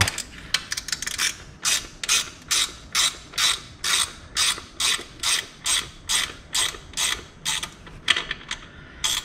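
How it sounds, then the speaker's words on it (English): Ratchet wrench clicking in steady repeated bursts while loosening a bolt on the rear wheel of a Suzuki GS500F motorcycle, close and fairly loud, with no talking. "So once you loosen this bolt, you can slide the tire forward so the chain can, you can take the chain off the sprocket."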